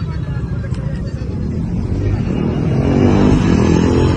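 A motor vehicle's engine idles and rumbles close by at a steady, loud level that swells slightly toward the end, with crowd voices and shouting mixed in.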